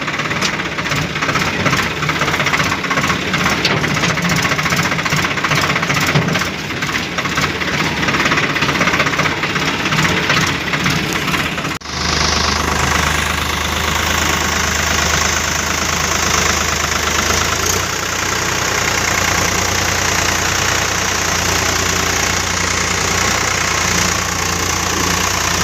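A Swaraj 744 FE tractor pulls a full load of sand, its diesel engine chugging loudly and close with a knocking throb. The engine tone shifts abruptly partway through and then carries on steadily.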